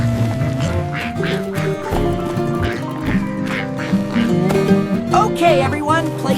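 A cartoon duck quacks amid a busy farm scene, with a nasal quack voiced over bouncy background music and other playful animal-like sounds, close and fairly loud.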